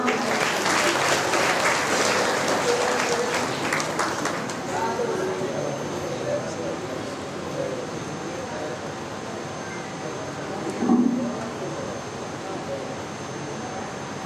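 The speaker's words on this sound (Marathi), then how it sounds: "सर्वांनी टाळ्या वाजवा." An audience claps together in loud applause at an award function. The clapping fades after a few seconds while people go on talking.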